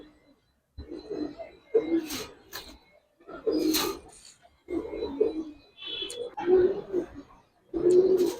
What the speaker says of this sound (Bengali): কবুতরটা অনেক অ্যাক্টিভ আর খুব চালাক একটা কবুতর